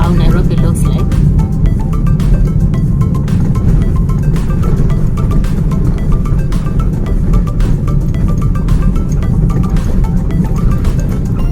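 A car driving through the streets of Nairobi, Kenya, around Kilimani, with a steady loud low engine and road rumble continuing throughout, with no voice over it.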